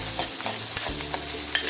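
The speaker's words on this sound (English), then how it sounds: "Now fry this onion till golden brown color" Chopped onion sizzles in hot oil with cumin seeds in a pan, a steady bright crackle with occasional stirring scrapes, close and continuous with no voices.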